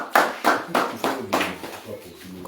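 A congregation claps in praise of Jesus during a church gathering in a family home in Dabakala village, with five loud, steady claps that then taper off into softer patters.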